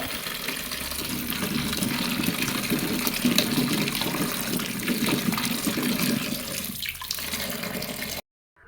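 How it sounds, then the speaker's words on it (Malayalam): Bilimbi fruit being washed in water, a close, continuous rush and splash of running water as from a tap into a container, steady throughout before stopping abruptly near the end. "ആ ഇലിമ്പിക്കയൊക്കെ ഞാനൊന്ന് കഴുകി ഉപ്പിട്ട് വെയിലത്ത് വെക്കാൻ വേണ്ടിയിട്ടുള്ള ശ്രമമാണ്"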